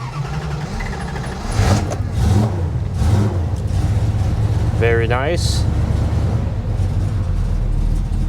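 Cold 1967 Plymouth Belvedere 440 big block V8 fired up after a few throttle pumps, settling into a steady rumbling idle close by with a brief rev, while someone talks over it.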